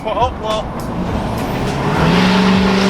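Exhaust note from a modified NA Mazda Miata with a side-dumping exhaust, reflecting loudly off a nearby wall as the car drives past; a steady engine drone rises in pitch toward the end, with brief talk over it.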